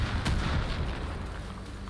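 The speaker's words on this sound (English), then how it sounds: "they saw him in a mortar strike" Mortar strike explosions rumble through a firefight in Far Cry New Dawn: a deep, sustained booming roar with a sharp burst near the start, loud and close, with no speech.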